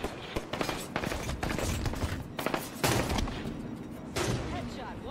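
Sniper rifle fire in the Halo 5 video game: several sharp, loud shots spaced a second or so apart over a busy battlefield din, with brief voices under the action.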